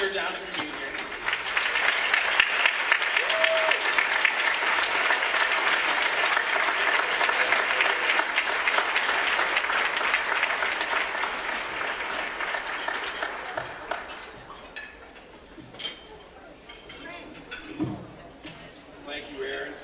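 Sustained applause from an audience welcoming Edward Christopher Johnson, Jr. to speak at a legal community event, loud and steady for about thirteen seconds before tapering into scattered claps and room noise.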